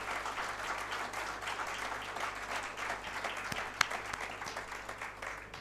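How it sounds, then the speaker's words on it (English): A company audience applauds steadily at a silver jubilee celebration marking 25 years, a dense, sustained wash of clapping filling the room, with one sharper clap standing out near the end. "I want all of you to give yourselves a very big round of applause for today."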